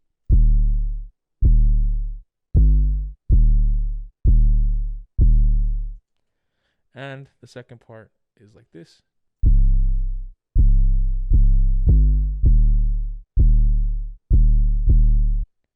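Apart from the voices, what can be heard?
808 bass drum pattern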